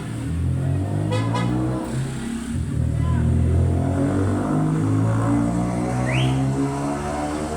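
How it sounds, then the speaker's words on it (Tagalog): Loud motorcycles passing outside a home, their engines droning and revving continuously close by, with a faint voice in the background. "Napakaingay po ng mga motor."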